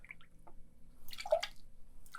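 Guava juice is poured for a rum cocktail in a few short, quiet bursts of dripping and gurgling liquid separated by near silence, ending with a brief louder splash.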